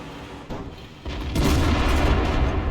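Tank cannon fire in a tank battle video game featuring a KV-2: a few muffled booms, then a heavy, sustained rumbling blast that swells and holds loud near the end.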